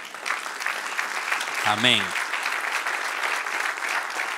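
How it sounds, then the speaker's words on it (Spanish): Church congregation applauding steadily throughout, with a brief spoken or sung voice rising over the clapping midway. "Denle un aplauso al que reina."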